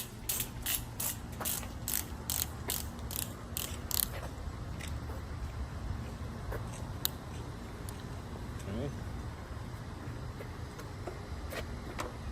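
A ratchet wrench clicks in quick repeated bursts while tightening trailer hitch bolts on a 2012-2021 Jeep Grand Cherokee, loud at first then fading to sparse ticks over a low background hum.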